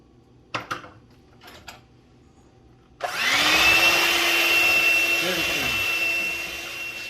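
A handheld electric mixer whirs steadily while mixing a sweet batter with two eggs, starting abruptly after a few faint knocks and running loud and continuous for about four seconds, with its pitch dipping briefly near the end.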